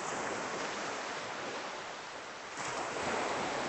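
Ocean surf washes steadily onto a beach in Mexico at sunrise, a broad continuous roar that swells slightly near the end, with some wind noise and no voices.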